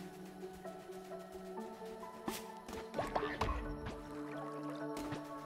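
Watering crops in the video game Cult of the Lamb, with soft game splashes and drips among bright musical tones and scattered clicks, a brief burst of liquid sound near the middle.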